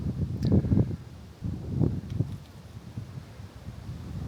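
Gusty wind buffets the microphone at a hilltop viewpoint in Hua Hin, with low rumbling bursts rising and falling over a few seconds; no talk is heard.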